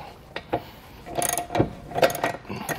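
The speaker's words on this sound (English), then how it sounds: "we're going to go back with our torque wrench and make sure we get it all torqued properly" A ratcheting wrench tightens hitch bolts for a Stealth Hitches hidden rack receiver on a 2020 Tesla Model, giving a few separate ratchet clicks and then bursts of quick mechanical clicking, close and fairly loud.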